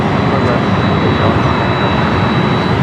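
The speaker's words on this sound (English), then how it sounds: "Off goes the Philippine 777 over there to the west gates." A Philippine Airlines Boeing 777 jet at Los Angeles International Airport (LAX) produces a loud, constant roar with a thin high whine that stays level from start to end.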